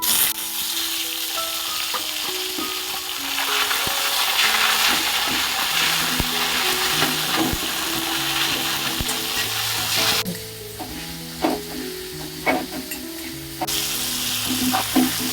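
Chopped tomatoes hit hot oil with dried red chillies for a bitter gourd and potato dish, giving a loud, continuous sizzle with stirring scrapes, while a melodic tune plays softly behind.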